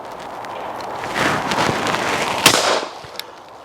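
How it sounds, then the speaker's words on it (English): One sharp shotgun report from an MK38 fitted with a Kickies recoil pad cracks out once outdoors over a hiss of background noise, brief and moderately loud. "Now I'm going to shoot the MK38 with the Kickies pad on it"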